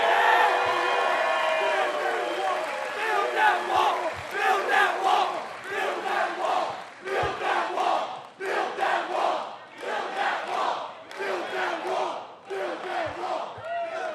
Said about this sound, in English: This is the hell of a crowd, man.